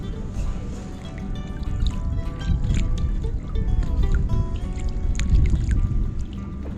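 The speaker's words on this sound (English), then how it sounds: "I'm just going to keep paddling" An Itiwit 100 inflatable kayak paddled solo with a double-bladed paddle, with close splashes, drips and trickles of water as the blades dip and lift in a steady rhythm.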